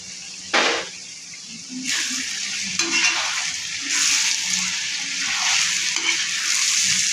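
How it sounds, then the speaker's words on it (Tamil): Garlic, green chilli, ginger, curry leaves and onion sauté for prawn thokku with a loud close sizzle and repeated scraping strokes of a spatula in uneven bursts, no talk. "வெங்காயம் ஆனால் நல்லா வதங்கட்டும்."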